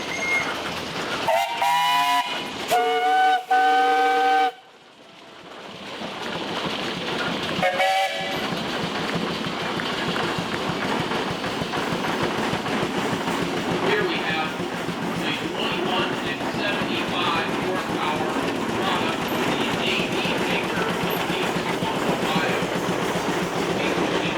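A 20 horse Minneapolis steam traction engine, owned by the Peterson family, sounds loud, close blasts on its harmonic steam whistle at an outdoor steam show, then one more short toot, followed by a steady chuffing engine rumble.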